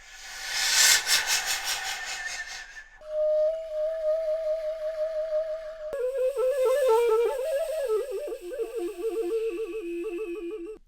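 Breathy, hissing wind noise blown through a recorder, then a sustained whistle-like tone that wavers and shifts pitch, played alone up close.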